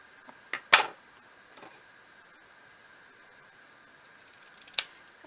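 Card paper is cut with scissors in a few short, crisp snips, one louder close snip near the start and another near the end, with quiet pauses between them.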